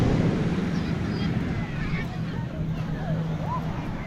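Wind and sea waves make a constant rushing roar outdoors on the coast at Chammaa, northern Morocco, with faint distant voices and a low engine-like hum underneath.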